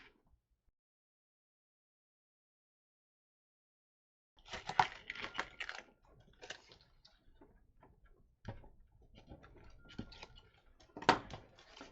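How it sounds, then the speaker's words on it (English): After a long silence, adhesive backing is peeled off paper album pieces in sped-up bursts of soft crackling, ticking rustles and sharp little snaps, faint and close. "I'm going to speed up the video now and peel all the backing off"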